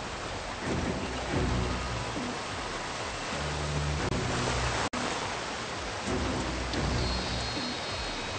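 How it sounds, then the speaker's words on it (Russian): Roaring water pours down steadily in a waterfall scene from the video game Call of Duty: Ghosts, a dense, continuous rushing wash heard close and loud, with low rumbles under it and one brief dropout. "Мы можем спрятаться за водопадом."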